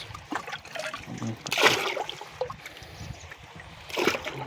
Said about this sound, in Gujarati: ડોઝ માટે પાણી લઈ લીધેલું છે